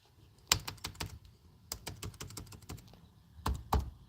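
Fingers tap out quick bursts of keystrokes on a computer keyboard, close and fairly quiet, with short pauses between clusters of clicks.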